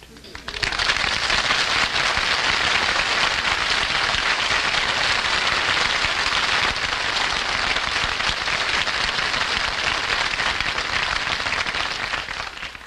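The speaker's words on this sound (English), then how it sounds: "I didn't mind the applause he got on his entrance" Studio audience at a radio comedy broadcast breaks into loud, sustained applause for Humphrey Bogart's entrance, a dense wash of many hands clapping that holds steady for over ten seconds before easing slightly.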